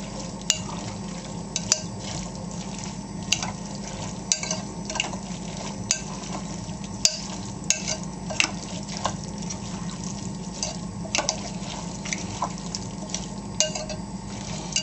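Fattoush salad being tossed and mixed by hand, giving a steady close rustle of wet leaves and dressing, with scattered clicks of utensils against the bowl throughout and no talking.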